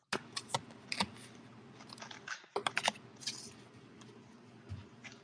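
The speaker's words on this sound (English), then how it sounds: "I swear I'm shuffling the cards" Tarot cards being shuffled by hand: a run of crisp papery clicks and riffles, close and fairly quiet, with bursts of quick snaps around the start and middle.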